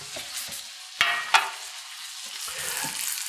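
A bottom round beef roast sears in a hot pan, giving a continuous close sizzle broken by a couple of sharp clanks and scrapes.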